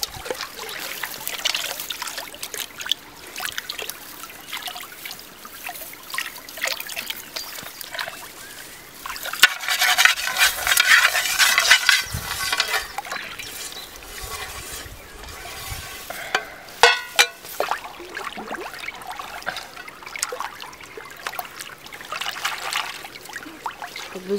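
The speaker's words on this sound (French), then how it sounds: "Petite vaisselle dans l'eau froide." Small dishes being washed by hand in cold water at an outdoor bivouac camp: irregular sloshing, trickling and scraping of crockery, close and moderately loud, with brief splashy bursts and no voices.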